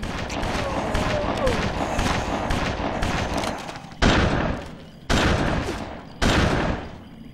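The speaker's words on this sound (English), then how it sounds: "her guns picked up another enemy just over here" Gunfire from the BloodRayne video game: a sustained rapid barrage of shots followed by three sharp, loud separate blasts, with game sound around them.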